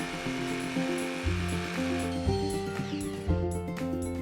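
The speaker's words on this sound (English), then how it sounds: "I cut the curve with my jigsaw" A jigsaw cuts a curve in a wooden trellis rail, giving a loud, continuous buzzing whine with a rhythmic, stepping change in pitch as the blade works along the cut, heard close up with no talk.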